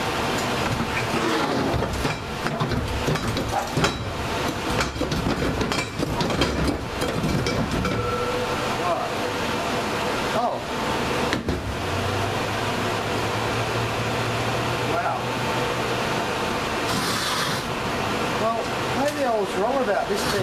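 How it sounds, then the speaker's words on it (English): A steady mechanical hum with clattering, rattling texture from a screw compressor running nearby, continuous and fairly loud. "the noise you can hear in the background is my new screw compressor"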